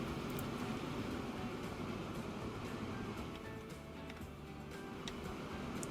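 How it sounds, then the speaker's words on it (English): Steady train rumble from Transport Fever 2 as a passenger train passes through a town, a continuous mid-level rail roar with faint ticking clicks on top and no speech. "you have a train going through you"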